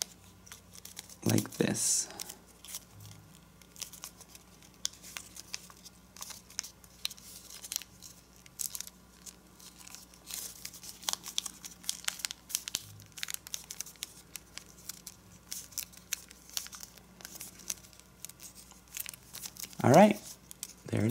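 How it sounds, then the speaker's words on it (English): Paper being folded into an origami dragon: soft crinkles and a couple of sharper creasing crackles near the start and end, mostly quiet handling under a calm voice talking. "And now let's fold this flap behind on these two points."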